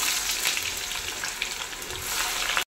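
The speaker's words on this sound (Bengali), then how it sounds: "আমার তেলটা গরম হয়ে গেছে, এবারে আমি পেঁয়াজগুলো দিয়ে দিচ্ছি তেলের মধ্যে" Sliced onions fry in hot oil for chicken biryani: a steady, bright sizzle with crackling pops runs close and loud throughout, with no talk, and stops abruptly at the end.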